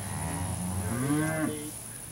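A single drawn-out moo from feeder cattle on a Florida ranch, moderately close and rising then falling in pitch, over a faint steady background hum.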